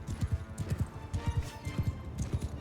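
Horse hooves clip-clopping in the medieval game Mount & Blade II Bannerlord, a quick, rhythmic run of hoof strikes in repeated clusters, close and fairly crisp, with faint battle noise behind.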